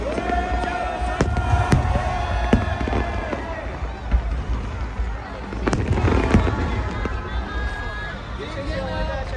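A 2022 New Year fireworks show in Hualien bursts over a crowd, with sharp booms and crackles through a constant hubbub of cheering, and an announcer speaking over it.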